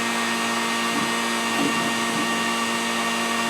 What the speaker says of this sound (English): I put my finger over the nozzle and I press the button. That just blows it back into the jar.